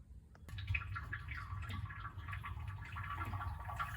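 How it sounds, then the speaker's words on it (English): A water heater tank is flushed with water to clear sediment, producing a low, steady rushing gurgle with faint drips and splashes that begins abruptly and continues evenly and quietly. "we can flush the water heater."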